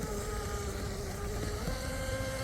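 A small RC boat motor on a crackerbox-style model boat drones steadily on the water with a slight shift in pitch, close and continuous, with no talking.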